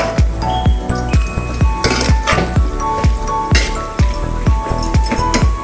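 A utensil repeatedly clinks against a pot while biryani ingredients are stirred, about a dozen evenly spaced metallic taps in a steady rhythm, close and fairly loud, with no talking.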